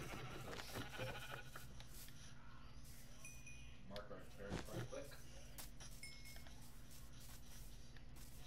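Sheep in a block-building video game bleat in short repeated calls over a busy game soundscape, with someone talking throughout.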